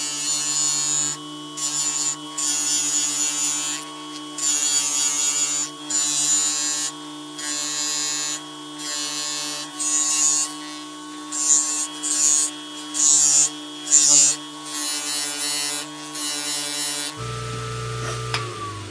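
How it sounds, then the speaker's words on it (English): Buffing wheel polishing a 2026 Colt Python stainless revolver toward a bright mirror finish: a steady high motor whine with repeated rising and falling bursts as the metal is pressed against the wheel, close and loud, ending abruptly. "I'm going to go over now to the other wheel, and we're going to make this really look like a mirror."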